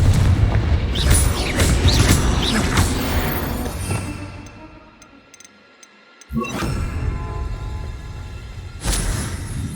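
Confringo explosive spell blasts in the game Hogwarts Legacy, loud booming bursts early on that fade into near silence, followed by two more sharp bursts and rumbles later.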